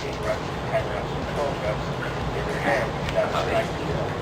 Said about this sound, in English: He's a Cocker Spaniel.